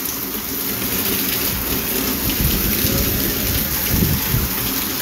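A heavy outdoor downpour in Tamaulipas, Mexico, hisses loudly and continuously, with a deep rolling thunder rumble beneath the dense patter of drops and no voices.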